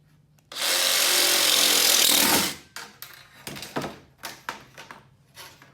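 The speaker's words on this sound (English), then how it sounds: "I've got my metal blade on my jigsaw. It should smooth right through this aluminum." A jigsaw fitted with a metal blade cuts aluminum in one loud, harsh burst lasting about two seconds, then stutters in shorter rattling bursts as the cut continues.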